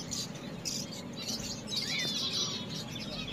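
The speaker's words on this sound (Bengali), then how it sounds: "আর এগুলো আছে গোল্ডিয়ান ফিঞ্চ, আপনারা সবাই জানেন খুব সুন্দর একটা পাখি।" Gouldian finches kept in a pair of cages for sale give soft, high, thin chirps. The calls are scattered and fairly faint over a steady background hiss.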